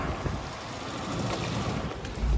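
A jeep pushing through water, heard as a continuous broadband rush and splash with wind buffeting the microphone and a low rumble swelling at the end.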